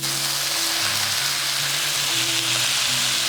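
Rice noodles stir-fried with vegetables in a pan for a peanut sauce dinner, giving a steady, fairly loud sizzle with low stirring and clattering beneath, continuous throughout and no talking.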